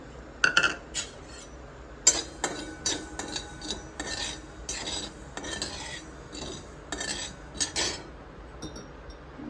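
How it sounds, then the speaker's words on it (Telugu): Mustard seeds dry roasting in a pan on a stove, with scattered sharp metallic clinks and scraping stirs over a low steady hiss, some sharper clatters standing out close by. "ఇటువైపు కూడా స్టవ్ వెలిగించుకుని దీంట్లో ఆవాలు డ్రైగా వేయించుకోవాలి."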